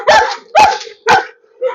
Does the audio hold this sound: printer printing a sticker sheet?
no